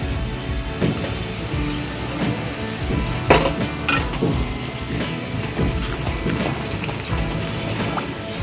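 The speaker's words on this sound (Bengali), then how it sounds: "এই যে নারকেলের দুধটা এবার দিয়ে দিচ্ছি।" Coconut milk pours into a cashew masala frying in oil for an egg malai curry, giving a dense, continuous hiss and bubbling sizzle with a couple of brief spoon clinks against the pot.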